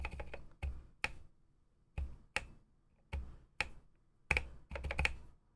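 Keys on a re-lubed Ducky One 2 Mini keyboard with silent switches tap close and crisp in uneven bursts, separated by short pauses, with no talk.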